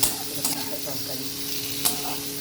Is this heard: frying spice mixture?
yes